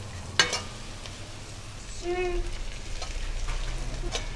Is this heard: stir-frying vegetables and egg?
yes